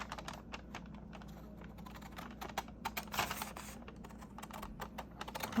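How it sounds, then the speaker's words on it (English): Scissors snipping around a paper envelope for a junk journal, a steady run of close, crisp little cuts with small pauses, no talking. "Then you take your scissors"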